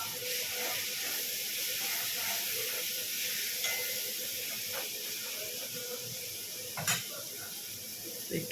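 Ginger and chili paste fry in hot oil with whole cumin and spices, giving a steady, close sizzling hiss throughout with occasional stirring scrapes and clinks.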